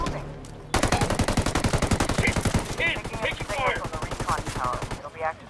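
Rapid machine-gun fire from a recon tower in a video game, a long burst of fast evenly spaced loud shots, close, with voices shouting over the later part.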